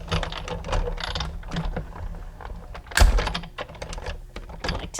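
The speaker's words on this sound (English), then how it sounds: "then I'm going to cut that out using my die cutting machine" A die cutting machine rolls paper through to cut out small ovals, giving a close, busy run of mechanical clicks and ratcheting crunches with a sharper thump partway through.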